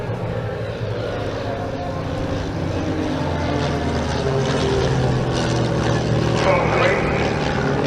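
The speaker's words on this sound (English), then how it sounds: "The RV-8 is a fast aircraft with an excellent climb rate." An RV-8 propeller aircraft flies at an airshow, its engine droning steadily for several seconds, fairly loud, with a slight swell toward the end.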